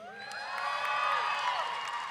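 A university commencement audience cheers and whoops at a 2015 undergraduate graduation ceremony at Hofstra University. The crowd noise is fairly faint, sustained and distant, with rising and falling whoops and a little scattered applause.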